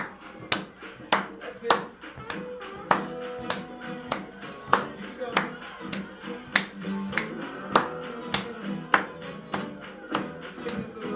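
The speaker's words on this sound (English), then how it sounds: "Let's clap together. Clap your hands." Hands clap and feet stomp together in a steady, evenly spaced beat, close and moderately loud, with a few short spoken words over the rhythm.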